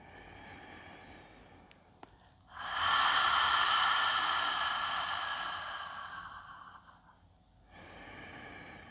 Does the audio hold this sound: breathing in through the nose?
yes